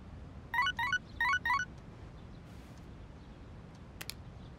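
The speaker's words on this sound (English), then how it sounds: "I've got a text message." A phone text message alert from the video game Persona 3 Reload: a quick run of four bright, chirpy electronic tone bursts, followed later by a faint brief blip over a quiet background.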